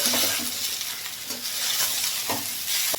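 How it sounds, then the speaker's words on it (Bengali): Drumstick flowers being stirred into potato, eggplant and onion frying in a pan, a continuous sizzle with scraping strokes of a spatula and a sharp clink of utensil on metal near the end. "সজনে ফুলটা দিয়ে আমি একটু নাড়াচাড়া করে নিই"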